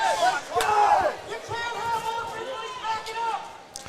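Spectators at a district AA high school wrestling championship shout and holler in protest at a wrestler stalling, a loud swelling roar of raised voices that rises, dips and surges again over a few seconds.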